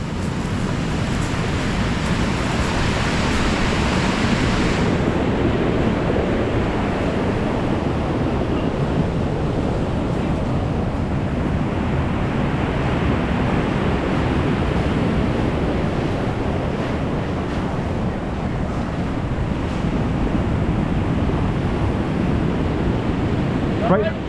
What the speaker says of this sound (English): The tide's coming in fast now